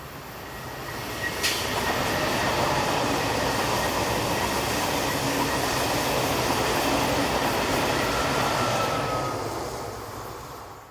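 A Swiss class 460 electric locomotive hauling an extra passenger service from Biasca to Zurich on the Gotthard North Ramp, its rumble and wheel clatter swelling as it passes and then fading, with a brief high squeal early on.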